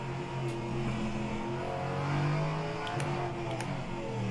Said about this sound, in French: cette espèce de son, c'est un moteur Nissan à l'intérieur